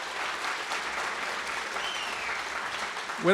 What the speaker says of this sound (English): Let's give them a round of applause for all the work they do.